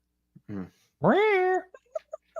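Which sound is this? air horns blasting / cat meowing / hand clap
cat meowing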